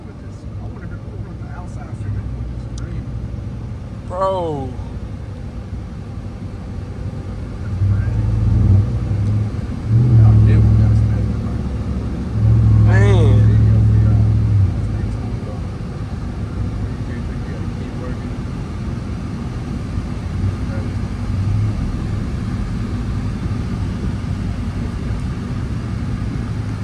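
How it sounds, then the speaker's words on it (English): A supercharged Ram TRX truck's exhaust rumbles close by, swelling into two louder revving bursts mid-clip and then settling to a steady drone, with excited voices talking over it. "And that exhaust on itself is beautiful"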